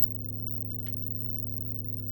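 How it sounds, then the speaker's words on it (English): Sine wave tone from a eurorack synthesizer patch, a steady low pure hum held at even volume, with a faint click midway. "There's the sine wave."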